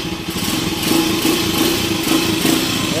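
Small engine idling smoothly after an oil pump overhaul, a close, steady even putter with a faint regular pulse throughout.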